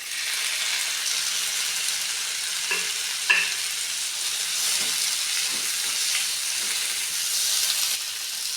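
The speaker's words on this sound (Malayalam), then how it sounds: "അതിലേക്ക് നമ്മൾ ടൊമാറ്റോ ആഡ് ചെയ്ത് കൊടുക്കാം." Tomato added to a pan of garlic, ginger and curry leaves frying in oil for onion chutney gives a steady close sizzle, with a brief clatter of ingredients landing near the middle and light stirring scrapes afterward.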